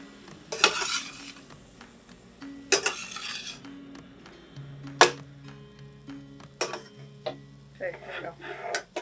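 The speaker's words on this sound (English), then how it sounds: "1 pound of maple sausage, we're just going to brown this up" A pound of maple sausage browns in a pan with a faint sizzle, broken by several sharp clinks and scrapes of a utensil against the pan, some spaced seconds apart.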